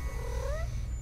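Black cat in the Baby in Yellow video game, a short rising meow over a steady low rumble of game background noise.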